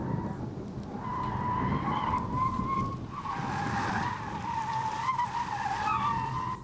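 Tires squeal on a Volvo XC40 Recharge Twin 2023 electric SUV during a moose-test avoidance manoeuvre and slalom, with sustained, wavering skid tones rising and falling over several seconds alongside faint vehicle rumble.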